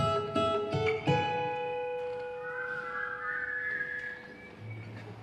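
A clear whistled imitation of a butcherbird call by a concert audience, several bright, bird-like notes, followed by a longer sliding whistle that fades out.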